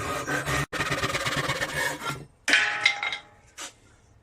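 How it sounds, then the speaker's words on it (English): Rough, rasping strokes of a pull saw through wood, two long cuts with a brief pause between, followed by a short scrape. "this saw is a pull saw, which means it cuts on the pull motion"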